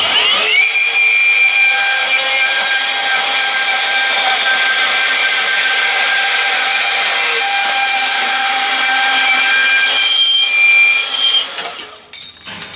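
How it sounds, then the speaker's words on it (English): A Milwaukee M18 FUEL 2729-22 deep cut band saw runs at its top speed setting 5 and cuts through an exhaust pipe, making a loud, sustained, steady metallic whine with ringing overtones that holds for about eleven seconds before the blade breaks through and the noise drops away. "I'm going to turn the speed of the bandsaw up to 5, which is the maximum speed"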